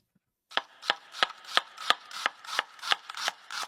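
A knife chops cheese into cubes on a cutting board for shawarma, about nine crisp, evenly spaced strokes in a steady rhythm, close and clear with no voices.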